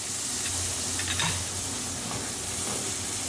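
Corn tipped into a hot pan alongside ribs, seasoned with black pepper and sweet paprika, gives a steady close sizzle and frying hiss with a brief clatter as it goes in, and no talk over it.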